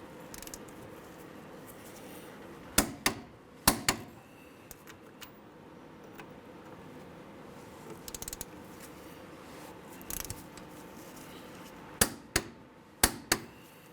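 A torque wrench tightening brake caliper bolts on a 2003-2011 Honda Element to 79 foot-pounds: sharp, close metallic clicks in short pairs and clusters, separated by quiet stretches of faint ratcheting and handling noise.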